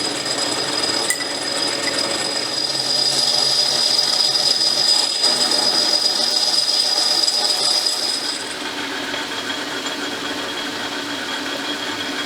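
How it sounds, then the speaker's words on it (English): A battery drill bores out a wheel hole to 3/4 inch, a steady high whining drone that runs for about eight seconds before easing to a lower, duller hum. "Now I got to bore that to 3/4 inch, and I think I'll use a drill and then a boring bar."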